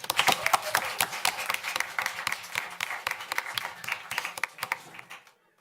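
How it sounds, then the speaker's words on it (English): A school board meeting audience applauds Henry Elementary School, many hands clapping in a busy, uneven patter at moderate distance that thins out and stops abruptly near the end. "Let's give one more round of applause to Henry Elementary School."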